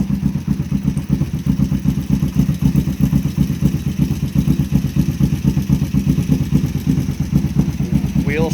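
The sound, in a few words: Kawasaki Vulcan 500 motorcycle engine running, clutch released, wheel turning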